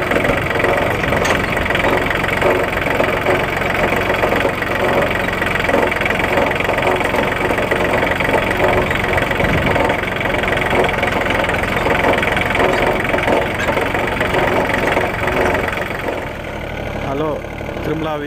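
A tractor engine runs steadily and loud while ploughing a banana field, a continuous idling-to-working drone with knocking vibration that holds throughout and eases slightly near the end.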